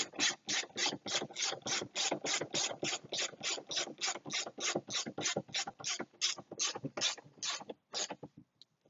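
A ratchet drives a long 10 mm screw back into a 2016 Kia Optima door during a window regulator repair, clicking in a fast, steady run of close, crisp ticks that slow slightly near the end, with no talk.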